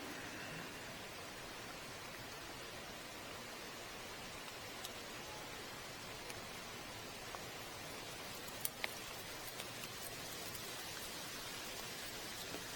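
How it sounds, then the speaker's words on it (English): Rain drips steadily off a tree beside a car park fishing pool, a faint, even patter with a few sharper drops landing close by. "It's raining again"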